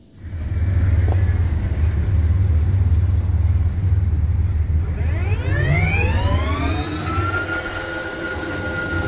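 A Stihl RZA 700 zero-turn mower drives past with a steady low rumble and a rising whine. A loud sweeping tonal sound climbs partway through as the machine moves close by, with no talking.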